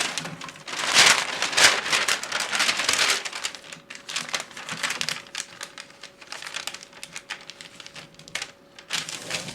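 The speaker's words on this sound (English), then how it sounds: "Then you need to fold the material into 4. So you fold it into 4." Fabric material being folded into four by hand for cutting a flared sleeve, giving close, loud crinkling and rustling bursts early on, then softer intermittent handling rustles with no talk.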